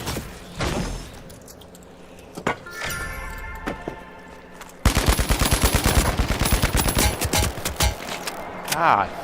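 Gunfire in the first-person shooter The Finals during a ranked match: scattered single shots and thuds at first, then a long, loud burst of rapid automatic fire, close up and harsh.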